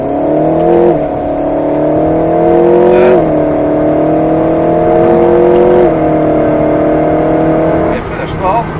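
A petrol car driven hard on a track, its engine droning loudly and rising in pitch through repeated accelerations with drops as it brakes and changes gear, while a man coaches under the noise.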